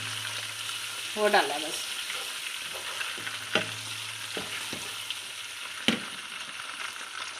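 One medium-sized tomato fries gently in a pan for dal kadu, a soft steady sizzle broken by a few sharp scrapes and taps of a spoon stirring, with someone speaking briefly over it.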